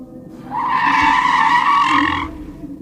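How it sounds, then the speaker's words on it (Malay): A car skids under hard braking, a loud tonal tyre squeal rising in and holding for under two seconds before cutting off, heard alone. "Masa tu kereta saya terus hilang kawalan, menggelongsor ke kanan"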